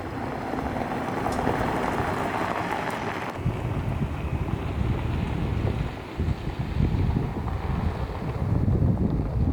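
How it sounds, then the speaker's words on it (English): Wind gusts roar steadily across the microphone beside the Deschutes River in Central Oregon, a broad rushing noise that shifts in strength, with no voices. "It's a little bit windy. Right here by the water."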